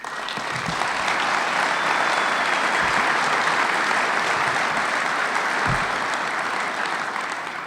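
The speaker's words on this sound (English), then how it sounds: "we owe her a huge round of applause" A conference audience gives sustained, dense applause for a former president during opening remarks, a loud, continuous wash of clapping from a large hall with a few heavier thumps.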